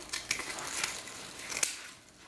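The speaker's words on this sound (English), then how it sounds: "What I'm going to do is just cut this off the roll" Scissors cutting deco mesh off the roll, several crisp close snips and crunching rustles of the synthetic mesh over about two seconds, with no talking.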